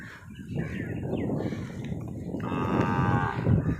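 A cow moos loudly and drawn out, followed by another long low moo, with dairy farm background noise throughout.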